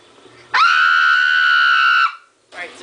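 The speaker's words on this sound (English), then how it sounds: "Alright, seriously, stop screaming." A person screams during a Halo 1 multiplayer session on the Master Chief Collection. It is one long, loud, high-pitched scream lasting about a second and a half, cut off sharply, then followed by a shorter burst.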